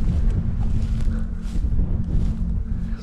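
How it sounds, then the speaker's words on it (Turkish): Strong wind buffets the microphone atop a castle wall at Karatepe open-air museum, Osmaniye, Turkey, with a constant low roar and gusty rumble, no voices. "Rüzgar var, ne olur ne olmaz."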